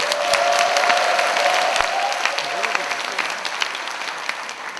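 An audience at a commemorative ceremony and concert breaks into dense, sustained applause, many hands clapping close and loud throughout, fading slightly toward the end.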